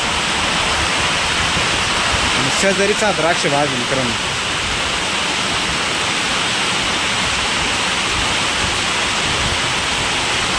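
Heavy rain pours steadily over a grape vineyard, a dense, even roar that never lets up, with a voice speaking briefly partway through.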